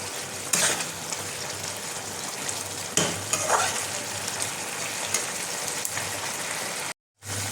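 Drumstick curry gravy bubbles and sizzles in a pan as it thickens, with periodic stirring scrapes over a constant, rain-like frying hiss; it cuts to silence briefly near the end.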